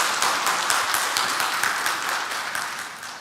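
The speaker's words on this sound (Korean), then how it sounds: "우리 감사하는 마음으로 한번 박수 보내드립니다" A church congregation applauds its choir accompanist during a Sunday service, steady broad clapping filling the room at even strength, tapering slightly toward the end with no talk over it.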